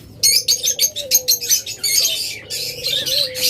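Budgerigars chirping in a rapid run of bright, close chirps, with a few softer pauses between bursts and a faint low tone beneath.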